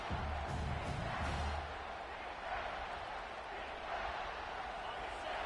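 Football stadium crowd at a South Carolina vs LSU game rising in a broad, steady roar of cheering as the defense holds in the red zone, loud and sustained, with a commentator talking over it.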